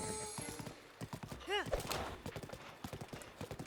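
Horse hooves clip-clopping at a steady rhythmic gallop in The Legend of Zelda: Breath of the Wild, with a whinny in the middle, moderately close.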